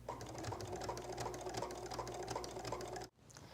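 Sewing machine stitching in the ditch through a quilted holiday placemat, a rapid, steady mechanical rattle running for about three seconds before stopping abruptly.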